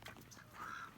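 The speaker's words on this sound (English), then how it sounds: "Loud, goosey duck." A goose or duck at a reptile park gives a single short, faint honk, brief and a little distant.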